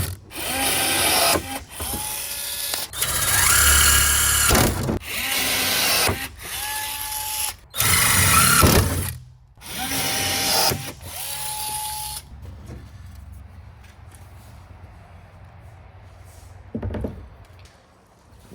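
Power tool driving rivets into kayak flooring on a SunDolphin American 12, heard as about eight loud, close bursts of a second or so each, separated by brief pauses, then quieter handling noise.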